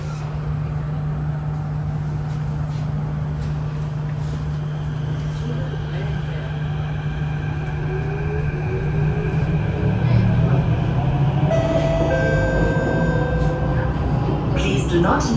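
A KHI & CRRC CT251 metro train running with flat wheels, a loud, steady rumbling drone heard from inside the car, with rising and falling squeals toward the end and spoken station announcements over it.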